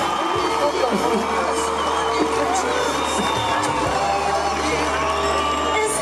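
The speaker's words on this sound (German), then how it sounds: "Ein Applaus für die Paula Dennis." A park crowd at the Energy in the Park 2012 event bursts into loud, sustained cheering, whooping and applause right after a marriage proposal, a dense roar that holds steady throughout.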